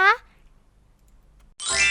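A short bright bell ding rings alone at the start, followed by near silence, then another bright chiming burst near the end.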